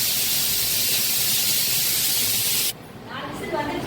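A pressure cooker on a stove releasing steam in a loud, steady, close hiss that cuts off abruptly near the end, leaving quieter background sound.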